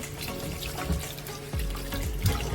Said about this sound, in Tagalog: So hugasan muna natin maigi dahil yan ay binili lang natin sa palengke.